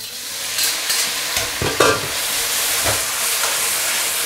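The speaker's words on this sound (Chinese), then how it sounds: "开大火去翻炒它" Shredded pork stir-fried in a wok over high heat, a loud steady sizzle and hiss with scraping and clanking of the spatula against the metal, close up and with no voices.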